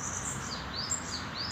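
A bananaquit sings high, thin chirping phrases repeated several times over steady outdoor background noise.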